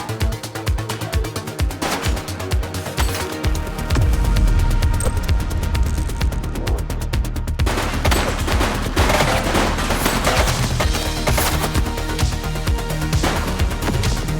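Heavy gunfire in the police video game The Precinct, sustained volleys of automatic shots with a booming swell partway through, loud and continuous throughout.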